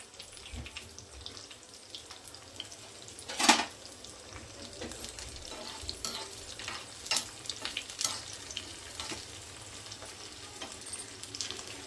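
Small onions and dried red chilies fry in hot oil for tomato dal, a low steady sizzle broken by a few sharp clinks and scrapes of a spoon against the pan.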